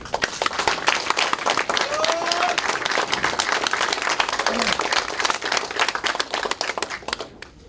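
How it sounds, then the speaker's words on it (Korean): A crowd at a Korean Democratic Party meeting of regional committee chairs claps loudly and continuously in welcome for the party leader, dense rapid clapping filling the room for several seconds before tapering off at the end. "큰 박수로 받아주시죠"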